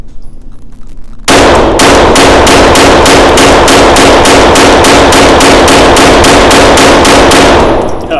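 A Taurus TX22 Competition pistol fires a fast, steady string of sharp, loud shots at close range, around twenty evenly spaced reports over several seconds with no talk.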